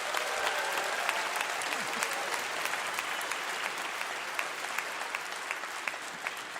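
Sustained audience applause for an 80-year-old blues singer-songwriter on his birthday tour, dense steady clapping from a sizeable crowd that holds at an even level throughout without letting up.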